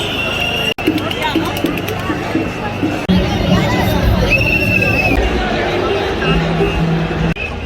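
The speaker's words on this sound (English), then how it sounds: "It started with a small crowd and then everyone just showed up at once" Crowd of protesters gathering in Italy, a dense outdoor babble of many voices with scattered shouts and footsteps, loud and continuous, briefly cut off near the start.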